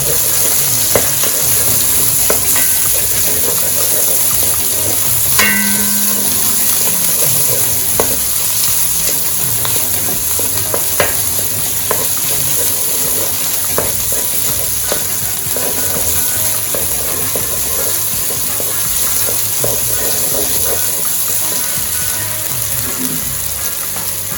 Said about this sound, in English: Oil in guys, I use cooking oil.